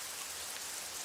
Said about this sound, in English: it's still pouring down, obviously